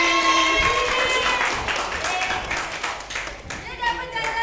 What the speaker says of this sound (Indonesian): Ye, tepuk tangan.